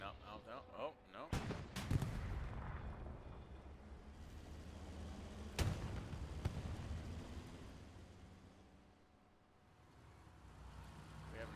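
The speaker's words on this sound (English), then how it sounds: "We have an exchanging of shots." Tank guns exchanging fire during a 9PZ versus RMC tank match, with two sharp, loud shots several seconds apart standing out over a steady rumble of engines and background commentary.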